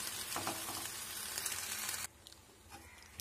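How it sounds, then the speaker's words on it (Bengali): Jujube pickle cooking down with cane jaggery in a wok, a soft bubbling sizzle with stirring scrapes that drops quieter partway through, leaving faint clicks of the spoon against the pan. "তো এবারে আমি নাড়াতে থাকি।"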